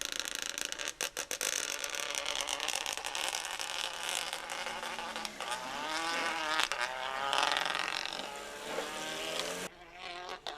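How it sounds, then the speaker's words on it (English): A Renault Clio rally car with anti-lag races through a wet stage at the Lombard Tredegar rally, engine buzzing high and rising, with rapid crackling pops and a surge of revs as it passes close. "Sarah Williams in the Renault Clio. Very distinctive, you could hear this one from the anti-lag."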